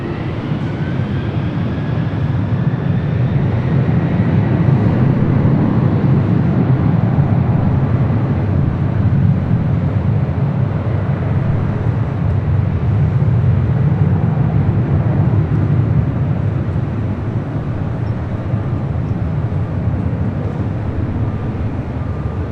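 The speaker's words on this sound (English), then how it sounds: "Next arrival is Delta Airlines flight 368 coming from Honolulu, another 767-300ER" A Delta Airlines Boeing 767-300ER arrives at LAX from Honolulu, its jet engines a loud, steady roar that holds evenly throughout.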